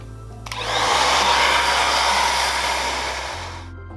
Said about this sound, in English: you just want to turn the hairdryer on